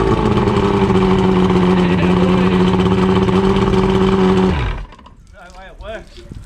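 A Johnson 90 outboard boat engine with a replaced power pack runs loudly close by with a steady droning tone for several seconds, then cuts off abruptly, and excited voices follow.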